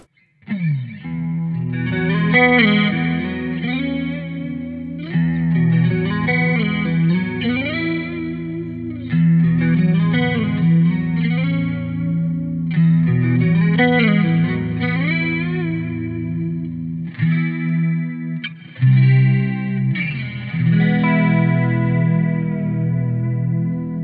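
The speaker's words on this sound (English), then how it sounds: "quite a clean sound with some reverb, a little bit of modulation" Clean electric guitar through a Marshall Code amp, chords and picked notes ringing with lush reverb and a gentle wavering modulation, played steadily with no voices.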